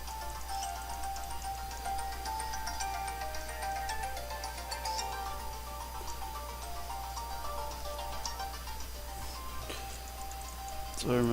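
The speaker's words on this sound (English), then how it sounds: "my phone's ringing" A mobile phone rings with a repeating electronic melody that runs steadily throughout, over a constant low hum, with a brief louder burst at the very end.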